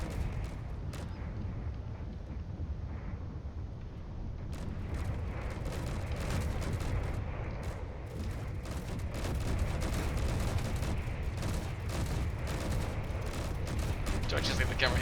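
Sustained bombardment in Space Engineers from a massive dreadnought warship, steady rolling gunfire and booming explosions layered into a continuous, fairly loud barrage with scattered sharp cracks.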